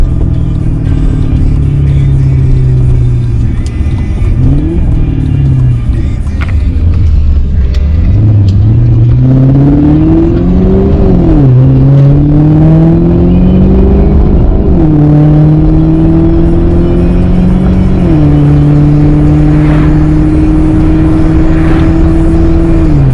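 A car engine revs continuously while driving, loud and close, the pitch sweeping up and down through several gear changes with no talk over it.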